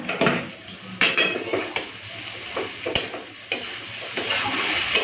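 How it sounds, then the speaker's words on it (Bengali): A spatula stirs a curry of potato and taro stolon in a pan with repeated scraping strokes and metal clinks over a soft sizzle, close and clear, with no talk. "চলো এইভাবে আরেকটু নাড়াচাড়া করে নিই"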